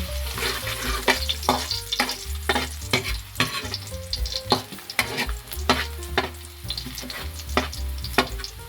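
Garlic sizzles and fries in a pan for squid adobo, a steady crackle broken by repeated sharp scrapes and taps of a utensil stirring against the pan.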